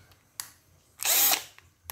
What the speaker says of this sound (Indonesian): bisa untuk ngebor masuk, bisa juga ngebor keluar